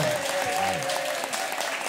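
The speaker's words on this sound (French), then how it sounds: "On peut applaudir Maître Lelon." An audience claps in steady, dense applause for a guest at a French talk show-style book event, continuous and fairly close throughout the short burst.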